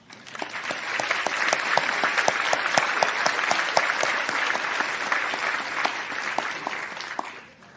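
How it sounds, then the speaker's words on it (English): Commencement audience breaking into sustained applause, a dense, loud roar of many clapping hands with a few distinct sharp claps standing out, swelling quickly and tapering off at the end. "So you are deserving of the first round of applause from this address."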